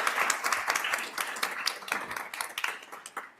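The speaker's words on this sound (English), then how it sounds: "So let's give her a round of applause, please." An audience at a fentanyl education and awareness workshop in Central Texas gives a smaller round of applause, with distinct individual claps forming a lively, uneven patter that gradually thins out.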